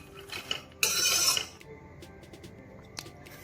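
Makhana and coconut roast in a kadhai over low heat while a spoon stirs them, giving a short burst of scraping and rattling followed by quieter clinks.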